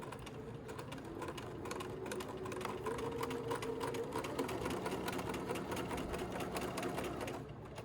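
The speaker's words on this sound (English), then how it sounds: "I'm going to go ahead and sew. I want to backstitch the first 5 stitches." A sewing machine backstitching and then sewing an elastic casing in fabric, running as a steady, fast mechanical whir and rattle from start to finish, close and continuous.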